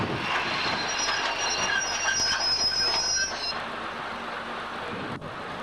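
A train passes on a London railway line around 1960 to 1975, with a steady roar of rolling wheels, a high squeal and a faint clatter. The noise is loud and continuous for the first half, then eases back.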